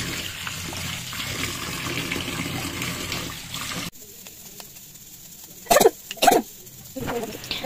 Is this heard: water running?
yes